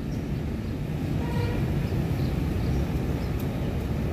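Local Bandung Raya commuter trains at Bandung station, giving a steady, loud low rumble of rolling stock and engines that fills the whole stretch without a break.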